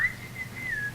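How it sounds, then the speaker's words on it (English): A woman gives a single clear whistle from some distance, one sustained tone that dips and rises in pitch over about a second. "She always whistles to me when she gets near the house."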